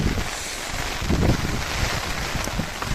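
Heavy wind and rain on a flooded road between Bhagamandala and Madikeri, with water standing on the roadway. The result is a steady, loud broadband roar with gusty low rumbles buffeting the microphone, and no voices.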